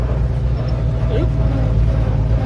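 A 1956 Chevrolet 6400 truck engine drones steadily and loud in the cab while driving, a low continuous rumble with a brief whine as it downshifts into second gear.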